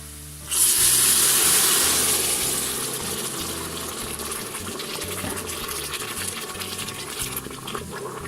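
About one and a half litres of broth gushes suddenly into a hot pan of rice for chicken risotto, with a loud sizzling hiss that gradually settles into a steady simmering bubble.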